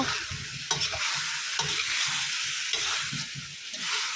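Pork belly stir-fries in a hot pan with sugar and seasoning powder, a continuous loud sizzle broken by regular scraping strokes as the meat is tossed.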